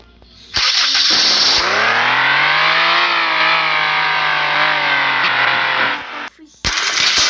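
A car engine in a video game revs up loudly, its pitch sweeping up and then easing back down in a sustained roar, with a short break near the end before the sound resumes.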